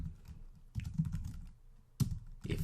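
Someone types code on a computer keyboard, close and fairly quiet, in quick clustered bursts of clicky keystrokes separated by short pauses, with no voice.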